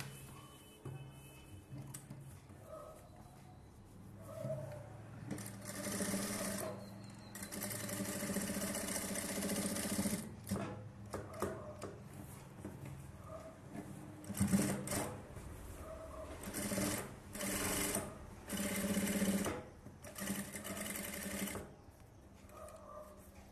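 A sewing machine stitches along the neck edge of a blouse in irregular runs of rapid mechanical clatter that start and stop repeatedly, close and fairly loud, with quieter handling noise in between.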